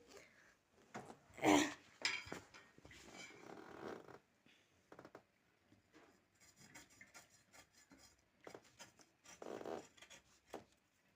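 Rasping, scraping strokes as sharp fibres are scraped off a husked coconut, coming in irregular bursts with a couple of louder close strokes early on and quieter stretches between, no talk.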